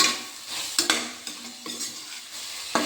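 Tomatoes and green chillies stirred in hot oil, a steady close sizzle broken by a few sharp spoon scrapes against the pan, for mushroom biryani.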